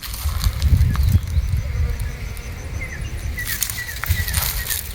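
A swarm of honeybees crawls into a hive, a busy close-up rustle of wings and bodies with low fluttering buzzes and scattered faint high chirps.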